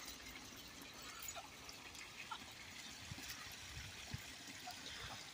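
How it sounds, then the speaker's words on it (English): Steady, gentle trickling of water spilling over small waterfalls on a flooded woodland trail, a continuous soft wash with no voices. "little mini waterfalls now"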